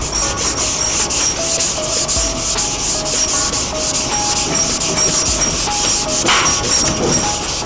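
Primer is hand sanded with 220 grit sandpaper in steady rhythmic back-and-forth rubbing strokes, close and continuous with a rasping scratch, no talk.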